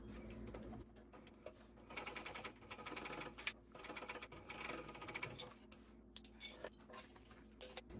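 A sewing machine top stitches a small fabric wallet, giving a rapid rattling hum in several bursts with brief pauses between runs, close and alone.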